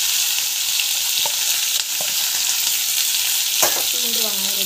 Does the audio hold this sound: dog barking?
no